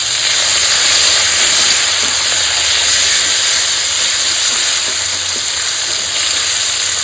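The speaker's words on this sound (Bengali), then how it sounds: "এই 3টে পেঁয়াজ আমি এর মধ্যে ফোড়ন দিয়ে দেবো।" Three onions frying in hot oil for a katla fish curry, giving a loud, steady, dense sizzle and hiss that runs unbroken throughout with no voices.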